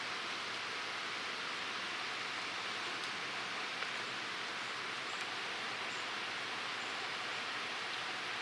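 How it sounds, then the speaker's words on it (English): Steady rain falling on a hunting spot in Pennsylvania woods, a continuous even hiss that stays constant throughout with no voices. "Well, it started raining."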